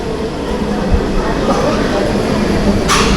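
A Bardhaman local passenger train runs with a loud, steady rumble and wheel roar, heard from on board, without a pause, and a brief hiss near the end.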